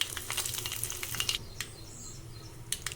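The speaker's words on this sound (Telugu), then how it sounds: "ఆయిల్ వేడైన తర్వాత ఆవాలు, జీలకర్ర వేసుకోవాలి. తర్వాత కరివేపాకు, తర్వాత 2 ఎండుమిరపకాయలు వేసుకోవాలి." Mustard seeds and cumin hit hot oil in a pan, giving a crisp, crackling sizzle with quick popping spits, busiest at first and then settling into fainter sputters.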